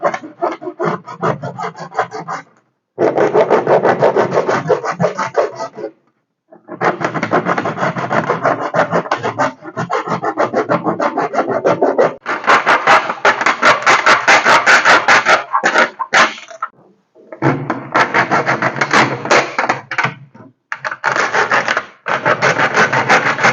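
Hacksaw blade cutting through a piece of material for a homemade emergency project, close and loud, in long runs of rapid back-and-forth rasping strokes broken by brief pauses.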